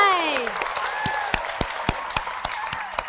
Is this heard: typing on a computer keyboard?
no